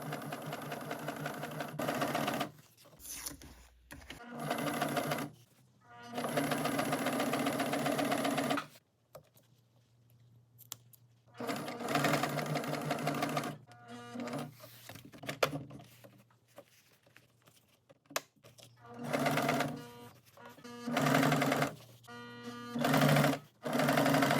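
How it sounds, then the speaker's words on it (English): A sewing machine stitches boat seat upholstery fabric in several runs of steady whirring, each lasting a few seconds and separated by quiet pauses and small handling noises. "After I got close to sewing all the way around, I pulled it off the machine to turn it inside out"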